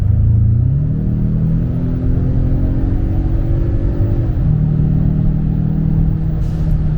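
2025 Ford Maverick fitted with a Thermal R&D cat-back exhaust accelerating, a loud deep exhaust rumble whose pitch climbs through a gear, drops at a shift and climbs again, heard close from inside the cabin.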